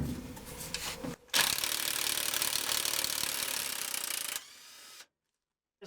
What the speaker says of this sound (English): now let's see if the impact wrench can get these off.